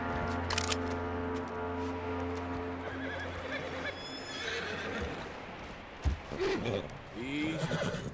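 A horse in the Red Dead Redemption 2 game lets out a loud, drawn-out whinny near the start, then snorts and shuffles with a few hoof sounds over steady ambient game noise and a low hum.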